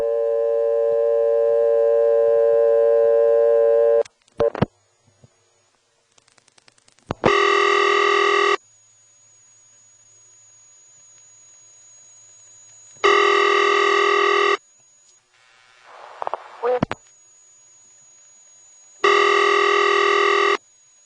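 Steady telephone dial tone from old step-by-step trunk switching equipment, loud and continuous for about four seconds, followed by repeated bursts of a steady tone separated by clicks and short gaps, with no talking.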